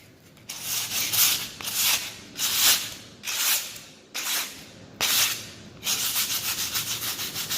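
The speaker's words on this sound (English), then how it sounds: "So in a couple more minutes I'm gonna start sanding it" A dried drywall ceiling patch is sanded by hand in repeated rhythmic rasping strokes, loud and close, speeding into quicker short strokes at the end.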